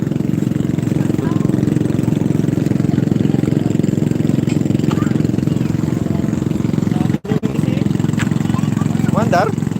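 A boat engine runs loud and close in a steady low droning idle with only a brief dropout partway through, while people talk over it.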